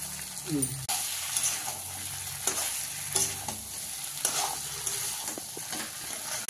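Chicken pieces fry for a spicy kosha curry in a pan, with a steady sizzle broken by scraping stirs of a spatula, close and continuous.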